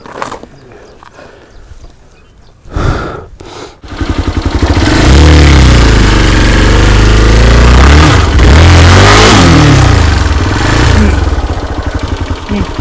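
A vehicle engine cranks and starts, then revs hard and holds a loud, rough roar with rising and falling pitch as a tyre spins on dusty ground; brief voices are heard before the start.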